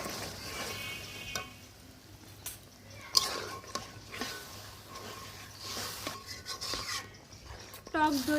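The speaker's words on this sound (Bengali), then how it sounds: "টক দইটা দেওয়ার সাথে সাথে ভালোভাবে নাড়াচাড়া দিবেন" A spoon scrapes and clinks around a pot as sour yogurt is stirred into cooked chicken for doi chicken, soft sizzling underneath, while someone talks through most of it.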